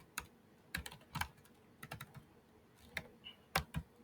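Code being typed on a computer keyboard, sparse, distinct key taps in uneven short runs, close and fairly soft against a quiet background.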